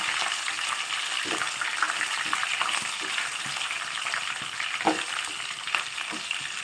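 Slit green chillies fry in hot oil for a lemon tamarind rice tempering, a steady bright sizzle with occasional soft spatula scrapes and small pops, close and continuous with no talking.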